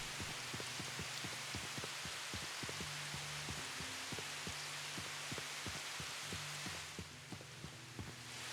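Rain falls steadily in the video game Mimesis, a soft continuous patter under a regular series of low thudding beats that repeat throughout.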